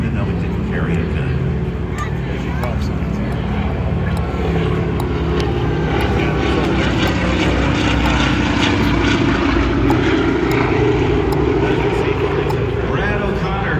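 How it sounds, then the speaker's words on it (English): A Douglas C-49 with Wright radial engines flying at an air show, a loud, continuous propeller drone that swells slightly midway, while a voice announces over the public address. "the crew of this C-49 Wildcat powered by the Wright engines"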